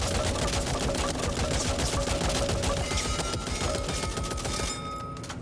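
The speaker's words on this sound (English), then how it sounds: "and a big light machine gun." Rapid, continuous automatic fire from a light machine gun in the zombie shooter game Back 4 Blood, loud dense bursts of gunfire sustained for several seconds without talk.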